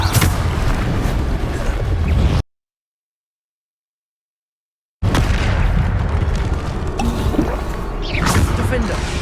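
The Bombarda blasting spell goes off in Hogwarts Legacy with loud booming explosions and rumbling bursts, broken by a few seconds of total silence before the blasts resume.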